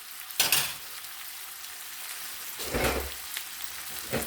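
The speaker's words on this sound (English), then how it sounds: "Now I'm going to cook my egg. I like butter." An egg fries in butter in a big iron pan, giving a steady soft sizzle with a couple of louder bursts of crackle and stirring or scraping, close by and with no talk.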